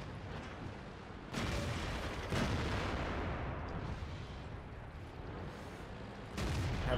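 Heavy tank cannon fire in the World of Tanks game: deep booming blasts at roughly 1.3, 2.4 and 6.4 seconds over a constant loud battle rumble, with no talking.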